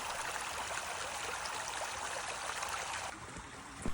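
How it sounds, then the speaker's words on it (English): Continuous rushing of water running in a street-side channel in Granada, Spain, steady and fairly close, dropping slightly in level near the end; no talking. "there were these elaborate water systems built that would run down the side of the street and run into fountains"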